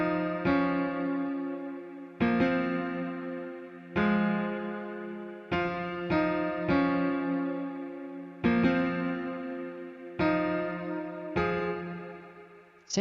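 A processed ambient piano layer from a drum and bass track plays soft, reverberant chords, struck about every two seconds and left to swell and fade, alone with no drums or voices.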